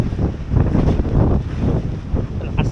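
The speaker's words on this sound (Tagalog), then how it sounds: "Lakas ng hangin." Strong wind at the seashore buffets the microphone in a steady, loud roar with rumbling gusts throughout, waves faintly mixed beneath.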